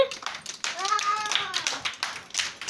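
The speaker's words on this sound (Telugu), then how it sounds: "క్లాప్స్ కొట్టండి అందరూ." Preschool children clapping in a classroom activity, scattered uneven claps mixed with a teacher's voice and children's chatter throughout.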